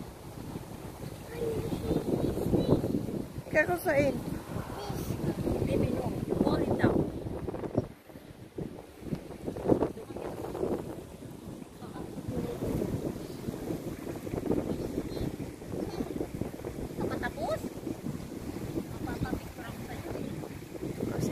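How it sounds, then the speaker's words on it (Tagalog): Wind gusting outdoors at Lagoona Mall in Doha, Qatar, buffeting the microphone with a low, uneven rumble that carries on under people talking throughout. "parang mahangin-hangin dito"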